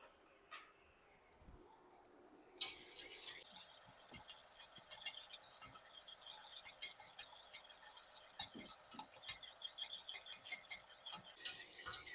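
Whipping cream being whisked for butterscotch, a quiet stretch giving way to a rapid, steady run of light metallic clicks and scrapes against the bowl, fairly close and continuing alone with no talk.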